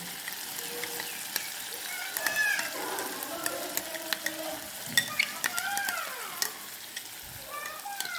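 Paste of ground cashew, raisin, poppy seed and melon seed sizzles steadily in hot oil for a curd-style katla fish dish, with light stirring and birds chirping in the background.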